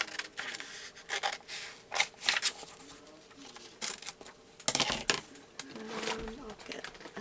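Scissors snipping paper while making a junk journal tag, several short crisp cuts scattered among quiet handling noise and soft background voice.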